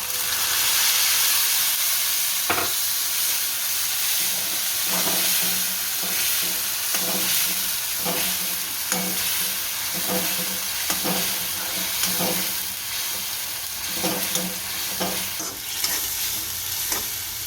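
Onion gravy sizzling and frying in a hot pan with garlic for an Indian corn curry; a steady loud hiss with soft rhythmic scraping and stirring taps throughout, no talking.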